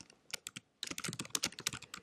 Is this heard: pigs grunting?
no